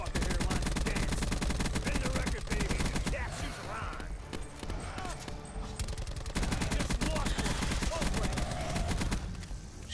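Sustained gunfire from the video game Call of Duty Black Ops 4 pounds away in rapid, nearly continuous automatic bursts, loud and close, with only brief dips in intensity.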